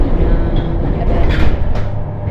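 Interior of a moving commuter train: a steady loud rumble of wheels and carriage with faint rattles and occasional metallic squeals, continuous throughout with no talking.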